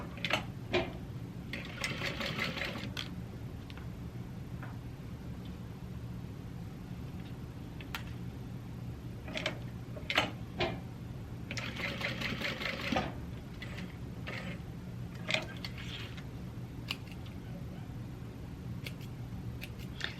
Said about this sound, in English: I'm just gonna sew these just so they stay in place.